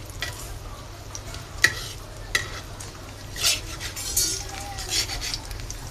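Two eggs frying in a kadai, spread across the pan and puffing up, give a steady soft sizzle with a few sharp clicks and scrapes of a utensil against the metal.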